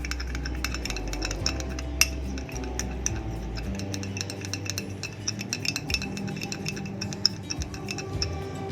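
A homemade honey scrub for hands and feet is mixed in a glass bowl, with repeated light clinks and scraping taps of a utensil against the glass, quiet and close, with no talking.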